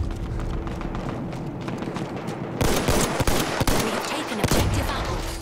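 Gunfire in Battlefield 1: bursts of automatic fire and rapid single shots crack loudly in the second half over earlier muffled battlefield noise, with rhythmic footsteps running throughout.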